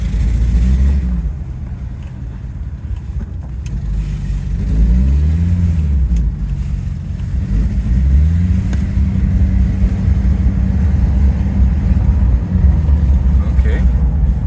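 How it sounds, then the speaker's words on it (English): A Rolls-Royce Silver Shadow engine is pushed to full throttle, its low rumble rising and falling in repeated revs close by, with someone talking over it. "Partial throttle, it bogs down, and then full throttle"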